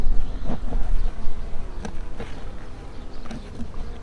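A dense, steady buzzing of many honey bees in a mating nuc hive fills the air up close, with occasional light clicks and taps over the continuous drone.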